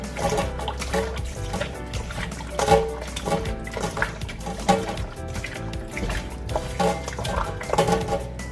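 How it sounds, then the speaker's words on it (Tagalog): Raw chicken is washed with vinegar in a sink or bowl, producing continuous close splashing and sloshing of liquid with irregular wet rubbing, over a low steady background hum. "I'm going to wash it with vinegar as usual, and then just rub it around"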